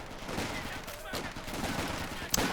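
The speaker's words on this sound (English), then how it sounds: "He's making these Tommies into killing machines. Those 5 Enfield rifles." Distant rifle fire from Enfield rifles in the Company of Heroes video game, a fairly faint, dense crackle of overlapping shots with one sharper report near the end, under continuous battle ambience.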